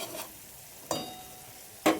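Masala gravy for stuffed eggplant sizzling in a pan, with a few distinct scrapes of a spoon stirring it over a soft steady frying hiss, near and without voices.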